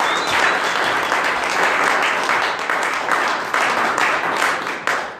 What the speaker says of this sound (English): So one last round of applause for